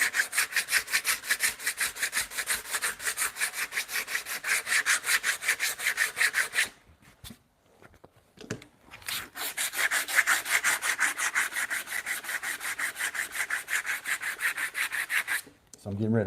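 Sandpaper worked by hand over the wooden edges of a timber-frame bunk bed ladder, heard close up as a long run of fast, even scrubbing strokes, broken by a short pause and a few scattered scrapes before steady sanding resumes.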